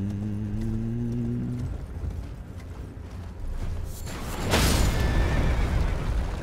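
A horse in Elden Ring whinnies in a long, wavering call, then hooves clop and mechanical clatter swells into a loud rumble.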